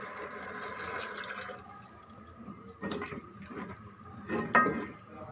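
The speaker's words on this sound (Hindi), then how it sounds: "अब इसमें 1 गिलास पानी डाल रही हूँ।" Water from a glass is poured into a pot of Pakistani-style aloo matar (potato and pea curry) with green chillies, giving a few short splashing pours over a low kitchen background.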